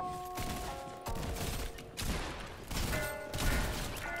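Sniper rifle gunfire in a video game, several sharp bursty shots roughly every second over a short stretch, loud and close with ringing tonal tails between them.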